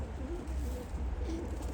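Soft pigeon coos sound faintly over a low background rumble, a couple of gentle calls close together.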